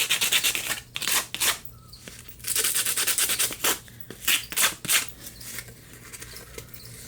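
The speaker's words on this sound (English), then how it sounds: "Just take the little bit of sandpaper and sand that little portion smooth." Sandpaper rubs a small section of wood smooth for a DIY desktop Japanese rock garden, producing quick bursts of scratchy rasping strokes with brief pauses between them, close and fairly clear.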